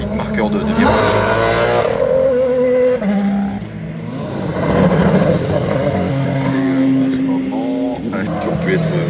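Race cars circle a track marked with plastic cones at no more than 80 kph, their engines droning loudly and continuously with rising and falling revs and tyre noise, while a voice speaks over them.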